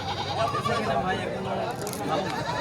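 Goats bleat at a crowded outdoor goat market in Nandangachhi, Bangladesh, with a busy steady bed of crowd chatter and voices throughout and bleats mixed into the din.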